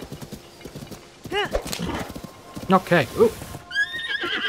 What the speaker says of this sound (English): Get my horse and we will be on our way.